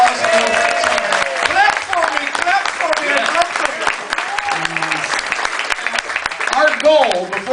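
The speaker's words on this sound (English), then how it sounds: "Let's give him a round of applause." A round of applause from the audience at a charity show, steady clapping with shouts and whoops rising over it throughout, while voices call out in the crowd.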